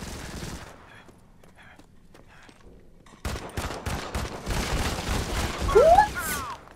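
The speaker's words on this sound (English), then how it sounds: "It's a shotgun." Gunfire in the Modern Combat 5 multiplayer video game, shotgun blasts bursting in loud and dense after a quiet start, with clattering game effects and a rising whistle near the end.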